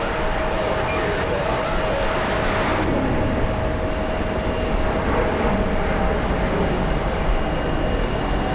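A British Airways airliner at JFK airport, a loud, steady jet roar that persists throughout, with a faint hiss cutting off early on and no talking.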